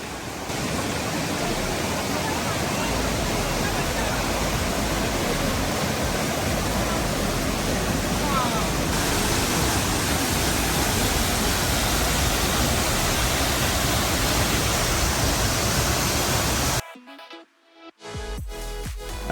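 Water at Ezharakund Waterfall roars steadily downhill on a hillside trail, a dense, loud rushing wash that continues unbroken before cutting off abruptly near the end.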